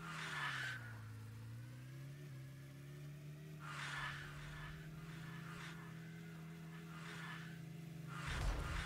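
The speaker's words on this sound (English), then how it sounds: "It drifts a little bit here." A vehicle in the video game Core hums steadily while drifting, with a few short tire squeals coming in repeated bursts over the engine drone at fairly low volume.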